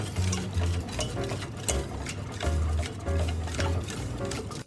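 Custard mixture for Brazo de Mercedes cupcakes being stirred in a pan over very low heat, a close continuous scraping and sloshing with steady rhythmic strokes and occasional utensil knocks against the pan.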